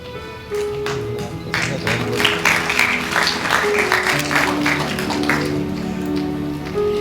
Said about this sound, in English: Let's clap for Shubh Tripathi from 4th B, the arithmetic ace from class 4